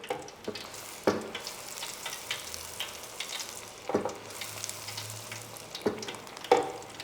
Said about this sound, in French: ça reste quand même une friture